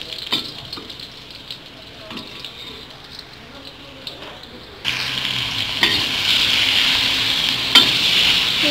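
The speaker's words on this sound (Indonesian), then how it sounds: "Jika sudah harum, kita boleh masukkan daging sapinya." Beef dropped into a hot wok with garlic for a Taiwanese stir-fry, quiet stirring and light frying at first, then a sudden loud, steady sizzle with scraping as the meat hits the pan, close up with a voice talking.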